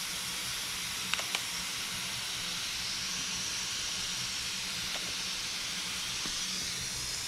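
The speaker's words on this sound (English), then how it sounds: "different spray pattern with this black paint, the top coat" A spray gun running at about 20 psi lays a black top coat of paint, giving a steady, even hiss that continues unbroken from start to finish with no voices.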